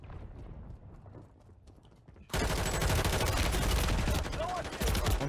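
Gunfire in a video game: quieter clicks and movement at first, then a sudden loud, sustained burst of rapid shooting that continues dense and close to the end with no pause.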